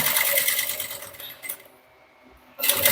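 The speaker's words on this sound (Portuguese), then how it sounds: "é costura reta, simples, tá? Só pra gente poder fixar aqui o colarinho no corpo da bolsa" A domestic sewing machine stitches a straight seam attaching the collar to the lining of a small bucket bag, whirring steadily and close up, then pausing into near silence before the motor starts again.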